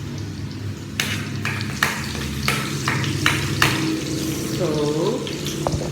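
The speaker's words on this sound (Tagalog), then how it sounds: "Nagigisa na ako na." Spinach with garlic sautéing in a hot pan, a continuous sizzle broken by repeated stirring scrapes and clacks, close and moderately loud, with a brief voice near the end.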